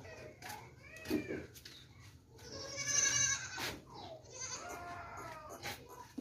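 A plump goat that has just given birth bleats repeatedly beside her young female kid in a farm setting, the bleats near and fairly clear, with cat-like cries and soft background noise around them.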